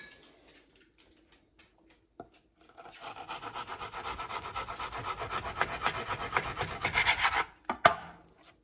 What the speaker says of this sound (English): I am literally carving into the meat to make strips